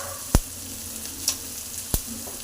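Chopped capsicum frying in a pan for capsicum rice, a soft continuous sizzle broken by a few sharp scraping clicks as the spoon stirs against the pan, with no voices.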